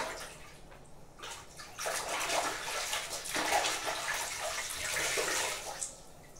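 Muddy laundry is hand-washed with soap and water, giving a close, continuous wet swishing and sloshing that swells and fades in uneven surges, with no speech.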